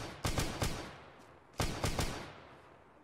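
Two short bursts of gunfire in Arma 3, each about three rapid shots with echoing tails, fairly close and loud against a quiet background.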